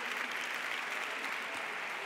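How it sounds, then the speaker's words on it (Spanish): An audience applauding after a talk on NGOs and online activism platforms, a steady wash of many hands clapping at moderate distance, fairly faint, with no speech over it. "con un fuerte aplauso, damos las gracias a Belén, a Irene, a Luis,"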